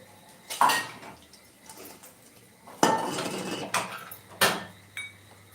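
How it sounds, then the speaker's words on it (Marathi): Potato sabzi scraped from a pan into a bowl: a few loud metallic clinks and scrapes of a spoon against the pan, in separate bursts with quieter handling between them. "भाजी आपण एका वाटीमध्ये काढून घेऊया"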